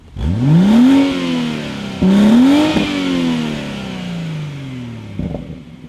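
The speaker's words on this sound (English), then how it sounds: "this particular car, because it's 2019, comes with a PPF, petrol particulate filter, and that can affect the noise" A 2019 BMW M140i with a petrol particulate filter revs twice up and falls back, the exhaust note rising in pitch then dropping away; loud, close and somewhat muted.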